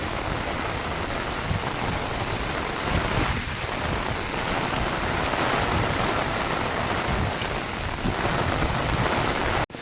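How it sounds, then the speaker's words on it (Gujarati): A torrential downpour lashes the open ground of Uparkot Fort in Junagadh, a loud, constant roar of rain striking surfaces close by, with faint rumbles beneath and an abrupt cut at the end. "ધોધમાર વરસાદ ચાલુ છે."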